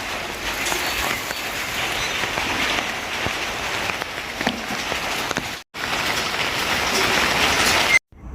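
Steady, heavy rain pours continuously, a dense hiss of drops hitting surfaces close by, with two brief cutouts near the end.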